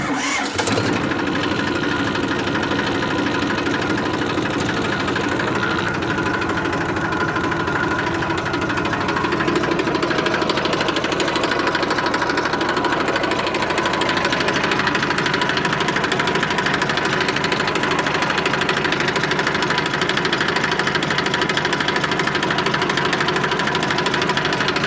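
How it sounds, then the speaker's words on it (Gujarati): A 380 top-model tractor engine cranks and catches, then settles into a loud, steady, rumbling idle with a constant knocking diesel throb that runs unbroken and close. "હવે આપણે તમને ટ્રેક્ટરને ચાલુ કરીને બતાડી દઈએ।"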